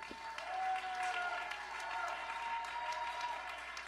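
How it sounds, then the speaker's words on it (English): Applause from a live panel audience at an arts event on the homelessness crisis, a steady moderate clatter of clapping lasting several seconds with a faint murmur of crowd noise and a voice underneath. "Give Trevor a round of applause, y'all."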